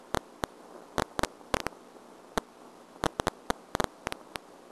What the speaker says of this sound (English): Those are just different sort of groups of neurons firing away.